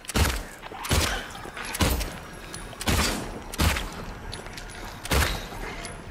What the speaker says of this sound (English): How many more shots does it take